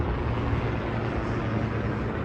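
A helicopter passes overhead above Hollywood, a steady broad rumble with no breaks, fairly loud and continuous throughout.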